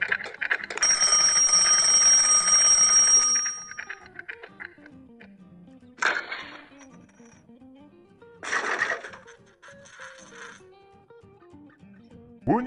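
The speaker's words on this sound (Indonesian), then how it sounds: "Bunyi panjang, seperti bunyi jam beker." A mechanical alarm clock bell rings in a loud, sustained metallic trill for about three seconds, then stops, followed by quieter tonal sounds and brief noisy bursts.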